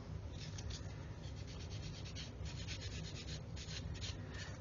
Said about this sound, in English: Sanding mould lines away, it makes it really easy because it's soft.